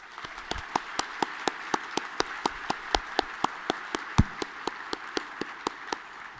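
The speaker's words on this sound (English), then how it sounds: "let's give Sean a round of applause" Sparse, evenly spaced claps ring out in a quiet university honors program hall, about two per second, fairly faint, with a lone louder clap near the end, not the full roar of an audience.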